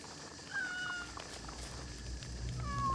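Kittens in the video game Assassin's Creed give several short, high meows spread across a few seconds, fairly close, over a low game ambience.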